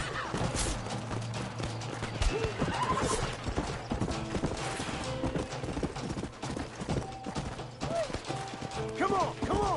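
Horses in the Western video game Red Dead Redemption, with hooves clip-clopping and several neighs and whinnies breaking through, close and fairly loud, mixed with mechanical rattling and faint voices.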